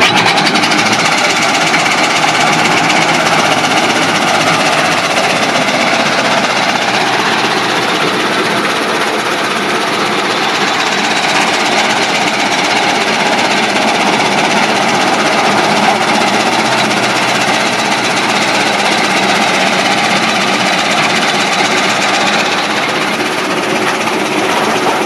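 Electric-motor kadba kutti fodder chaff cutter running steadily, a loud, continuous whirring and rattling mechanical drone that holds an even level from start to end with no voices.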